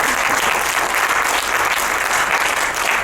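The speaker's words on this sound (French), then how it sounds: "On peut applaudir Pauline qui fait la lumière" A theater audience at a gesticulated lecture applauds the lighting technician, Pauline; brisk, dense clapping fills the whole moment at close, steady loudness.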